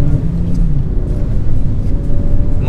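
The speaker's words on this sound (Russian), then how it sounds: "Машина просто срывается с места, просто буксует" A manual-transmission Lada Granta revs with its wheels spinning on snow as it pulls away, giving a loud, close, continuous low engine rumble with a rising whine.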